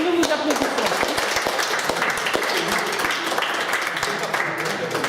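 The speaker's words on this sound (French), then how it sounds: "Nous vous applaudissons." Audience applause for a group of five students at a French-language school chapel project, a burst of clapping with distinct individual claps standing out, lively and close, with some voices mixed in.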